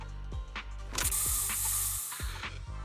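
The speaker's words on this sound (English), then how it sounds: "Here, have a taste of the special Bangboo spray." A special Bangboo spray in Zenless Zone Zero gives a hissing burst near the middle, among ratcheting mechanical clicks and thumps, fairly close and clear with no talking.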